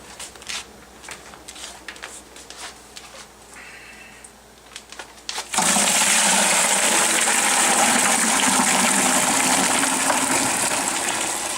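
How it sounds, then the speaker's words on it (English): Grape must is poured through cheesecloth wrapped around a bucket during home winemaking. After a few quiet seconds of small clatter comes a sudden, loud, steady gush of liquid that continues to the end. "we're going to pour the must into this bucket"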